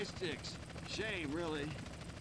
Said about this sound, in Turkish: Peşimde helikopter var.